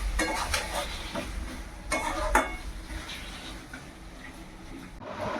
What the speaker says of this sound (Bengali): এরকম করেই কষা কষিয়ে নামিয়ে দেবো।